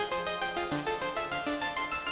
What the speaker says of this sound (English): This is an arpeggiated sequence.